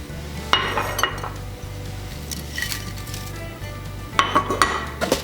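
Pickling spice ingredients are stirred in a skillet over medium heat, giving scattered clinks and scraping against the pan in a few brief bursts over a low steady hum.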